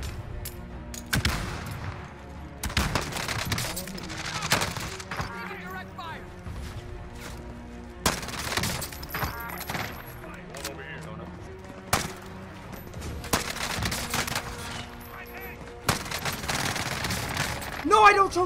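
MAC-10 submachine gun bursts in Call of Duty Warzone, loud rapid rattling volleys repeated in clusters with brief pauses and impacts, while a player talks excitedly between them.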